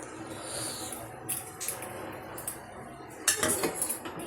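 A spoon stirs spinach and boiled moong dal together in a cooking pot, giving soft scraping and clinking of metal against the pot, with sharper clinks near the end.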